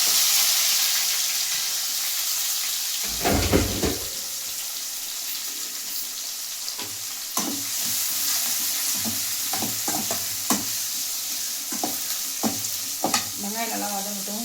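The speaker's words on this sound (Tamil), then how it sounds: "வெங்காயம் வதங்கிறதுக்கு கொஞ்சம் உப்பு போட்டுக்கலாம்" Onion with chana dal and urad dal frying in a pan gives a close, steady sizzle, with repeated clinks and scrapes as a spoon stirs it and a brief splash of water near the start.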